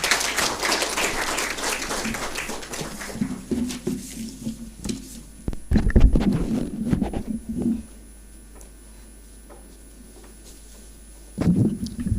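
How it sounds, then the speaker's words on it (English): A conference audience at an HR conclave applauds to welcome a speaker on stage, a dense wash of clapping lasting several seconds before thinning out and fading, then a brief renewed burst near the end. "can we please welcome him with a huge round of applause?"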